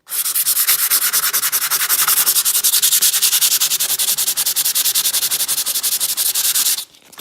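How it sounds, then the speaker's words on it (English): Light sandpaper rubbing over a rustic black-painted surface, a steady, fast back-and-forth scratchy rasp that stays loud and close for about seven seconds before stopping abruptly. "why don't you try light sandpaper?"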